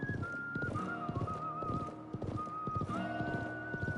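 A horse gallops in a video game, its hooves beating a steady, rapid clip-clop while a sustained whistling tone runs over the top.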